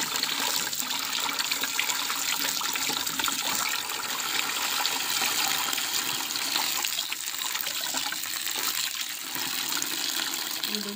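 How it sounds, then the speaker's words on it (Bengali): Fenugreek (methi) leaves being washed in water, a steady broadband wash of running and splashing water that stays loud and continuous throughout, with no talking. "এবার মেথির শাকগুলো ধুয়ে নিচ্ছি।"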